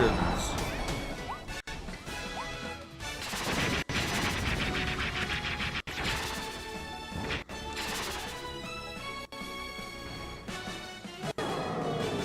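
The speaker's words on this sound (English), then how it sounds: "the Gordos cause explosions" Explosions from Gordos in the video game Kirby and the Forgotten Land burst out in repeated loud crashes, layered over busy game music and effects while a person talks.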